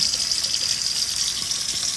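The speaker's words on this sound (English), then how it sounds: "We're gonna go ahead and add some water to this, rinse this around, get all that seasoning out" Tap water runs steadily into a bowl to rinse out leftover curry seasoning while cooking curry shrimp, a continuous close hiss and splash with no talking.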